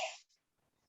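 One short, sharp sneeze bursts out close by in a kitchen, then quiet follows with only faint breathing.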